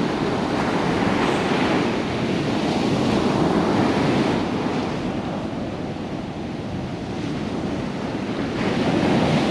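Ocean surf rolls continuously onto sand at Baker Beach in San Francisco, a steady loud wash with gentle swells and some wind rumble on the microphone, with no voices.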